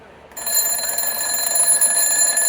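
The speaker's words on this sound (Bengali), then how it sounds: "দেখেন অ্যালার্মটি বাজছে আপনার।" A shrill electronic alarm clock starts abruptly and rings continuously, loud and steady, with no voices.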